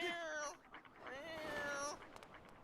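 A person imitates a cat's meow with drawn-out, wavering vocal tones, near and fairly loud, over faint background noise from a Zelda Skyward Sword HD let's play.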